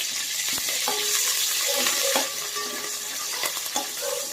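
Curry leaves crisp up in hot oil for poha chivda with a dense, continuous sizzling crackle and occasional sharper pops, close and steady, with no voices.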